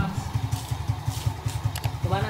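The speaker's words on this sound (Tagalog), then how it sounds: "Gumana ang ating motor." A motorcycle engine, started by a homemade remote-control anti-theft switch, runs at a steady idle with a rapid, even chugging pulse, close and moderately loud, while a person talks over it.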